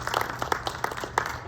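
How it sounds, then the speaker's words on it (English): A soft round of applause at a school board of education meeting: brief, light scattered clapping from a small group, with voices mixed in. "I'm gonna give him a soft round of applause."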